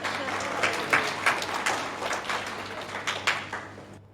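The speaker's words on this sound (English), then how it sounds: "Let's give Reway a big clap." A church congregation on Resurrection Sunday claps for Reway, a few seconds of steady, moderately loud applause with scattered sharper claps before it cuts off abruptly.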